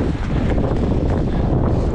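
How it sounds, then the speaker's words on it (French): Strong wind on a mountain bike trail, gusting hard and buffeting the microphone into a dense, roaring rush that stays loud and steady throughout. "le vent il a bien bourré, il a bien poussé"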